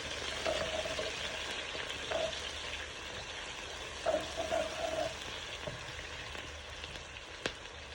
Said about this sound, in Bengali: আমি এটারে একটু ভাজা ভাজা করবো